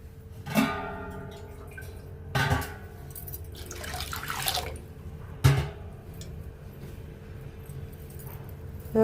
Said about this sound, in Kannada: ಅದಕ್ಕೆ ಇದಕ್ಕೊಂದು ಗ್ಲಾಸ್ ನೀರು ಹಾಕ್ಕೋತಾ ಇದ್ದೀನಿ